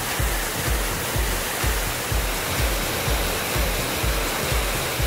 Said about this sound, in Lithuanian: Ir nors šie dirbtiniai kriokliai didžiausi Šiaurės Amerikoje